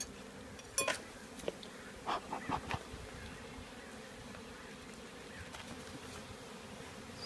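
Honeybees buzz in a crowded hive box as it is being expanded, a steady low drone with a few brief clinks and knocks of equipment close by.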